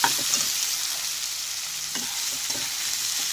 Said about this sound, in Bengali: রসুন বাটা দিয়ে একটু আমি ভালো করে নেড়ে দেবো।